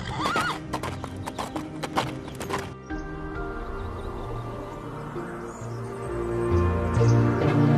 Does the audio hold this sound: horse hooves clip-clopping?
yes